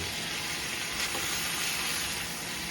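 Bok choy stir-frying in oil and soy sauce in a hot pan gives a steady, close sizzle with a constant hiss and no voices over it.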